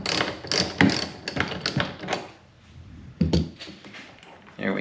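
A wrench ratchets and clicks as a bolt is backed out on a Mercury outboard motor, with bursts of metallic clicking, a short quiet pause, then another clunk and more turning up close.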